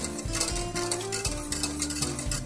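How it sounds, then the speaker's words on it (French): A spoon stirs thickening lemon tart filling in a saucepan, scraping the pan in a steady back-and-forth rhythm of repeated strokes, close and moderately loud, with no voices. "Il est important donc de remuer énergiquement car vous voyez la préparation commence à épaissir"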